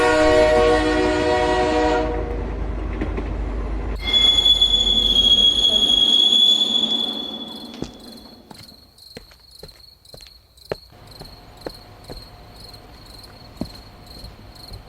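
A train sounds a deep, loud horn as it pulls out of a rural village station on a cold night, followed by a high whistle and the fading clank of wagons, with crickets chirping steadily afterward.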